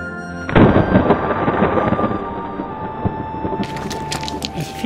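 Thunder from a thunderstorm in Spain or Portugal: a loud, close crack at the start rolling into a long, heavy rumble that lasts several seconds, with wind or rain hiss rising near the end.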